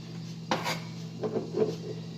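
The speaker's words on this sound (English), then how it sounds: "Usually for these, you just cut them up however you want to cut them." A kitchen knife chops olives for rosemary and olive soda bread. A few soft, scattered cuts tap against the board in a quiet room with no talking.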